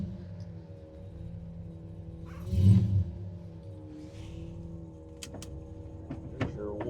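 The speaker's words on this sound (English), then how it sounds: "There's your wipers and your regular blower motor fan." Windshield wipers and blower motor fan running inside a 1969 Dodge Charger with a 383 V8, a steady whirring hum with a brief louder swell and a few sharp clicks near the end.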